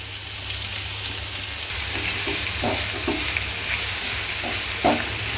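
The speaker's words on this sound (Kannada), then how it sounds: "ಉಳ್ಳಾಗಡ್ಡೆ ಒಂದು ಸ್ವಲ್ಪ ಫ್ರೈ ಆಗಲ್ರಿ." Chopped onion sizzles steadily in hot oil with curry leaves in a pan, with soft scraping strokes of a spoon stirring it every second or so, close and continuous with no talking.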